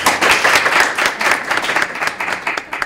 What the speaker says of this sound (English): You can only applaud for one.